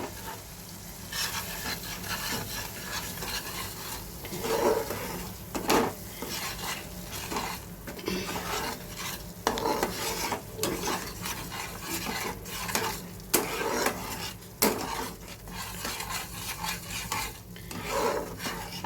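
Prawns are stirred with salt and ground cumin in a pan, giving a continuous close sizzle broken by repeated scraping and clinking of a utensil against the metal, with no voices.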